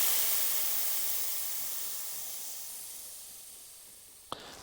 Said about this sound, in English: the first thing to do is to just let the air out